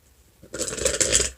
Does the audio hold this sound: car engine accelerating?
no